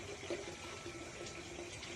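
Water runs steadily from a shower while a dog is being bathed, a soft continuous hiss and patter of spray, fairly faint and unbroken across the short stretch, with no talking.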